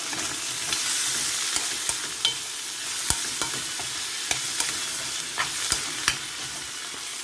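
Sliced tomatoes go into a hot pan of pork pinakbet, giving a steady sizzle and frying hiss with scattered sharp clicks and stirring knocks throughout; no one speaks.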